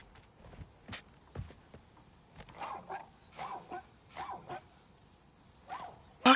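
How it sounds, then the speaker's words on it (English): Dog in a PS5 video game giving a series of soft, muffled barks and whimpers at a moderate distance, spaced irregularly across a quiet background with faint footsteps. "Is that a dog that I hear?"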